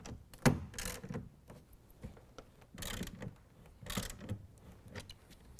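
Clamp of a BakFlip G2 tonneau cover being tightened down on an F-150 truck bed rail, giving a few close, irregular ratcheting clicks and mechanical ticks with short scraping bursts, no talk.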